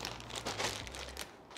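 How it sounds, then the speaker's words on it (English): Soft plastic crinkling and rustling, steady and close, with a low hum underneath and brief louder crackles in the middle. "I just keep them here in the plastic bag"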